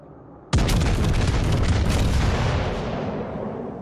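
Heavy naval guns fire in World of Warships with a sudden loud boom about half a second in, followed by a sustained, rumbling roar and crackle of salvo fire that slowly fades, with no talk.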